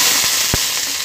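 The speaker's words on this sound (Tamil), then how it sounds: "எண்ணெய் காஞ்சதும் கடுகு பொரிஞ்சதும்" Mustard seeds spluttering in hot oil for Tamil-style banana stem kootu: a steady, close sizzle broken by a couple of sharp pops.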